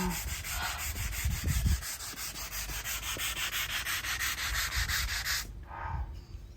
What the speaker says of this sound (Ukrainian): Шліфунемо ми цю роботу, цю бутилочку.